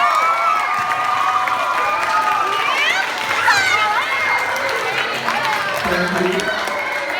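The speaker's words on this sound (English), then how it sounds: "Give her a round of applause." Audience at a middle school assembly claps and cheers for an introduced superintendent, a steady crowd wash with children's shouts and whoops rising midway, voices threaded through throughout.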